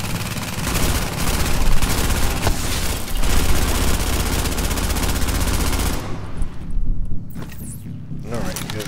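A Bullfrog machine gun fires rapidly in a shooter video game, loud and sustained for about six seconds before cutting off, followed by quieter game sounds while someone talks.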